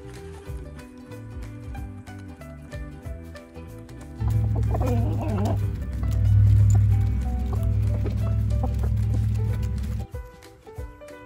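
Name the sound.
chickens clucking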